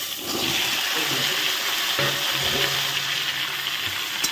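Mixed vegetables drop into hot oil with panch phoron and fry with a steady, loud, hissing sizzle that holds throughout.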